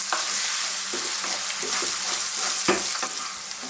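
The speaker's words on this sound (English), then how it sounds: "Let's just cook this for about 2 to 3 minutes max, stirring pretty much constantly." Vegetables frying in a pan over medium-high heat for a lentil and carrot curry, with a steady close sizzle and frequent clatters from constant stirring.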